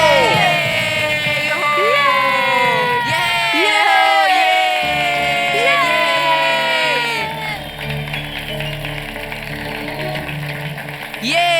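A crowd at a pot-breaking contest cheers and shouts loudly and continuously, with whoops and raised, sing-song voices piling over one another.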